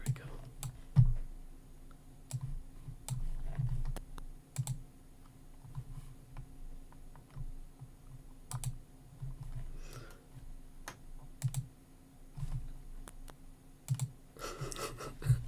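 Computer mouse and keyboard clicking at a desk, sparse sharp clicks and short bursts of taps spread irregularly over a quiet background, with a denser flurry near the end.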